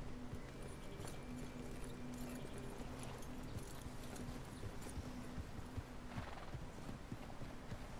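Horses trot in Red Dead Redemption 2 with a continuous clatter of hooves under a low rumble, faint and busy, with an occasional whinny.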